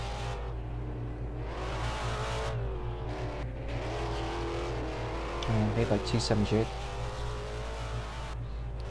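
A Foxbody race car, the 782 car built to resemble a GTO, runs on the Richmond track during an AASC feature race. A steady engine drone sits under continuous commentator talk, with a brief louder surge midway.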